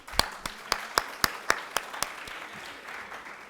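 A conference valedictory ceremony: sharp, separate claps land in an even, slow rhythm, a handful of hands rather than a full crowd, fading toward the end.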